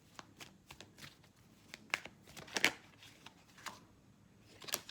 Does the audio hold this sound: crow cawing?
no